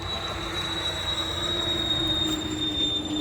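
Steady loud rumble of passing traffic beside an orange orchard by a road, with a high whining tone and a continuous roar throughout, no voices.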